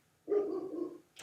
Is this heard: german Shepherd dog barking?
yes